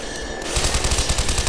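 Rapid automatic gunfire in Garry's Mod, a quiet moment giving way at once to a loud, steady stream of repeated shots.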